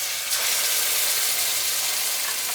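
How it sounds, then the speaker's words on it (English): Pork tenderloin sears in an oven-proof sauté pan, giving a steady close hiss and sizzle that holds evenly throughout with no talking. "We're going to sear it on all sides before we put it in the oven."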